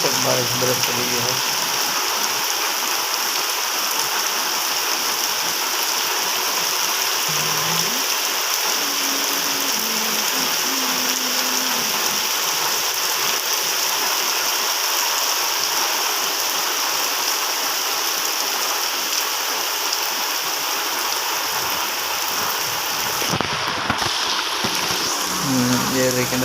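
Heavy rain pours down in a village with a continuous, broad wash of noise. Faint voices come and go in the background, and a brief disturbance sounds late in the clip.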